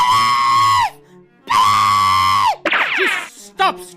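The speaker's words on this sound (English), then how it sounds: "Just stop screaming." Loud, sustained screams rendered as a sound effect, two long steady shrieks followed by shorter wavering cries, close and piercing against silence.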